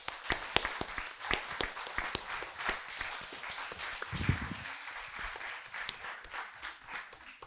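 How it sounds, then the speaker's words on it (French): An audience at an eloquence evening applauds steadily, a dense patter of many hands clapping at moderate distance, with a brief low murmur of voices partway through. "Je pense qu'on peut encore l'applaudir."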